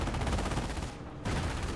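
Mortar shell impact in Company of Heroes amid continuous dense battle gunfire, a loud crackling barrage that briefly thins then resumes at full intensity.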